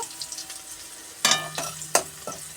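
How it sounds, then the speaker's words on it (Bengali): Dry red chillies crackle in hot oil in a wok, giving a few sharp, loud spitting bursts over a quieter background sizzle. "আর কড়াইতে তেল গরম করে শুকনো লঙ্কা"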